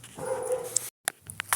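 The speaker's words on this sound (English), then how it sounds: "Sorry about that, guys. It was my goddamn dogs." Dogs indoors barking and yelping in a domestic room, a short burst of a couple of loud close barks with sharp yips and whimpers after a brief break, no talking.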